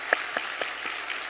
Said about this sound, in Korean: 잠깐 한번 일어나 주시면 우리 박수로 격려하도록 하겠습니다